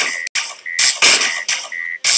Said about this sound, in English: alarm to tell us that something is very wrong